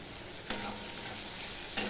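Nigella seeds, green chili and onion fry in hot oil with a soft, steady sizzle, broken by two quick stirring scrapes; quiet and close, with no talking.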